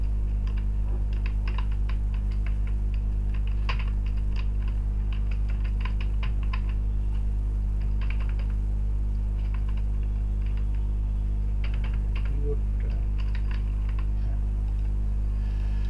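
Someone types on a computer keyboard during an online marketing class, with bursts of quick key clicks and pauses between them, set over a steady low electrical hum and no talking.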